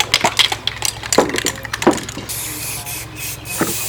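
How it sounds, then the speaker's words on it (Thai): Short bursts of spray paint hissing from an aerosol can while a guitar is painted, uneven and close, with clicks and brief gaps between sprays. "เอาช่วยกันพ่นสี ช่วยกันใช้ ฉีดฉีดใกล้ๆนะครับ"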